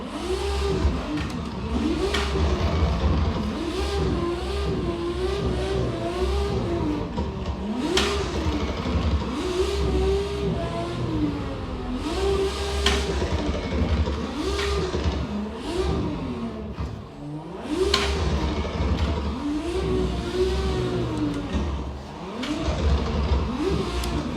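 Race car engine in a sim racing game played on a SIMAGIC hardware rig, repeatedly revving up through the gears in a regular rising-and-dropping pattern, loud and continuous with no voices.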